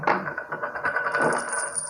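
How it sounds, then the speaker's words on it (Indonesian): A coin drops and rings out with a bright metallic clink, then settles with a few softer rattles, close and clear, alone. "Ada koin jatuh"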